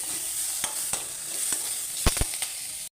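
Chana dal, urad dal and curry leaves fry in a pan, giving a close, steady sizzle with a few quick scraping stirs near the end.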